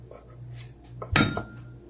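A single clatter of dishes and cutlery while red beans and rice are served up, a brief clink and scrape in the middle of a quiet kitchen.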